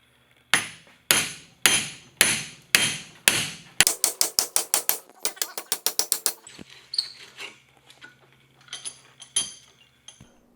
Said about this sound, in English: we did have to hit it with a hammer